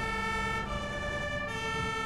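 Ambulance siren from the video game Emergency Ambulance Simulator, a steady tonal wail sustained throughout over a constant low vehicle engine rumble, loud and close.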